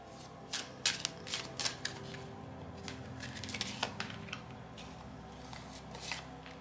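Tarot cards are handled and laid into a spread, with quick crisp flicks and soft slaps of card stock in an uneven rhythm, close and fairly quiet.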